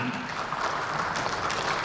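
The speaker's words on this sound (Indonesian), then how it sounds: "Tepuk tangan." An audience at a professional association event in Indonesia breaks into applause, a steady wash of many hands clapping, moderately loud and continuous for the whole short stretch.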